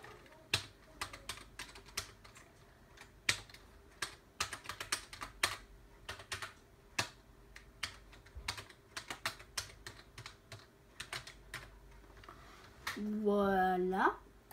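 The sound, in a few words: typing a password on a computer keyboard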